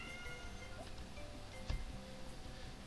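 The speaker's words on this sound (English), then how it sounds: "it's my cat Lance screaming at something" Faint, distant screaming meows from a pet cat named Lance rise over a quiet room backdrop, with one soft knock partway through.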